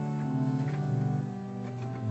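Church pipe organ at St Mary the Virgin, Radwinter, Essex, playing a soft chord on 8-foot stops, a steady sustained blend of tones held evenly throughout, quiet and alone.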